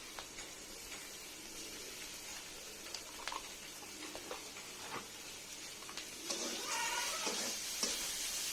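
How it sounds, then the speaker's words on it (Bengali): Ginger and garlic paste frying with prawns, a soft continuous sizzle with scattered stirring clicks, growing a little louder toward the end. "চিংড়ি মাছের সঙ্গে মশলাগুলো ভেজে নেব"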